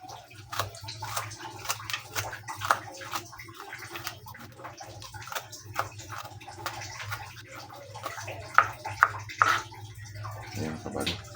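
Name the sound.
washing sliced ingredients in water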